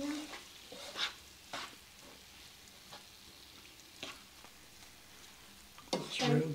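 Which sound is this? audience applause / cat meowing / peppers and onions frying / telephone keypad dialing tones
peppers and onions frying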